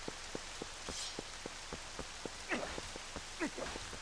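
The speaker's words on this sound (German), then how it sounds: "Wenn nur der Regen aufhören würde." Steady rain falls in The Legend of Zelda: Twilight Princess HD, a continuous patter of drops on the ground with regular splashes, close and moderately loud, without talk.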